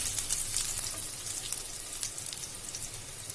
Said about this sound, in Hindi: अब हम इसमें ऐड कर देंगे ये चिलीज। तो इन्हें भी डाल देंगे और इस तरीके से मिक्स कर देंगे।